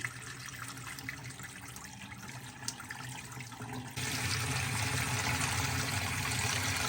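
Water running steadily from a hose while a water-treatment contact tank is flushed, a continuous splashing rush that grows louder and fuller partway through, with no voices.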